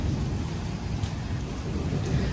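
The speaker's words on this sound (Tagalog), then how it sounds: "Ang lakas po ng ulan" Heavy rain pours down in a dense, loud, continuous roar, close by and unbroken, with no voices over it.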